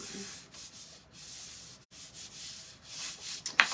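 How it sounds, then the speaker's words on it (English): Quick hand sanding across a wooden sign with masked-off edges, a steady rasping rub in repeated strokes with a brief pause midway, close and fairly soft. "I'm going to give it just a quick little sand."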